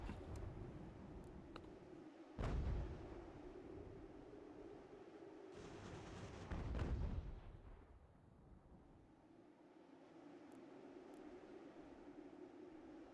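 Musket and artillery fire in the American Revolution strategy game General American Revolution: two heavy booming volleys rumble out several seconds apart over a continuous low battle din, with sharp distant cracks scattered through.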